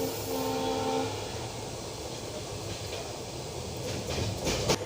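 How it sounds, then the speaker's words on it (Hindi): Passenger train running on the rails from Shahjahanpur toward Sitapur, a steady rumbling roar heard from inside, with faint rattling and a few clacks near the end. "ट्रेन हमारी चल रही है, सफ़र हमारा शुरू हो चुका है।"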